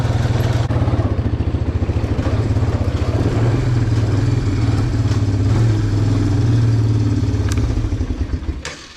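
Yamaha Raptor ATV engine revving hard and steadily while spinning donuts and popping a two-wheel wheelie, a loud, close, continuous buzzing roar with a rapid pulsing rhythm that fades off at the end.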